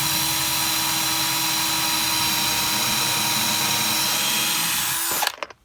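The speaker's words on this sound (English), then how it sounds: "drill pilot holes into two places on the wood" A power drill bores pilot holes into wood at close range, whining steadily for about five seconds, then cuts off abruptly and winds down into quiet.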